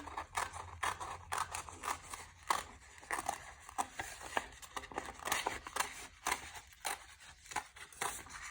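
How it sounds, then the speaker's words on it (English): Scissors snip repeatedly through paper while a red circle is cut out, a quiet, irregular series of short crisp cuts at close range with no one talking. "I'm going to cut out the medium red circle."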